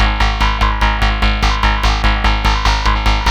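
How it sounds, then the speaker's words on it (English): A juicy wavetable synth built from two formant vocal-type wavetables, used for hard techno, pulses in about a dozen evenly spaced, loud, buzzy stabs with a vowel-like tone, played alone. "what I've got here, which is like this pretty juicy wavetable sound"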